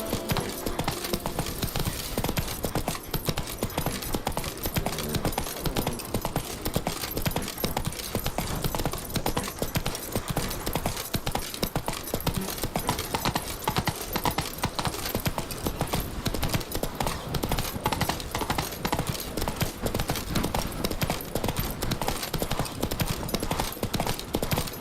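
Roach the horse trotting in Witcher 3, a continuous rhythmic clip-clop of hooves over a dense, busy game soundscape, steady and fairly close throughout.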